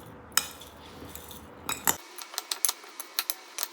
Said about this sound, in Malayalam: ഇപ്പോൾ എല്ലാം ഒരു സ്ഥലത്തല്ലേ ഇരിക്കണം, നന്നായിട്ട് ഇളക്കി കൊടുക്കണം.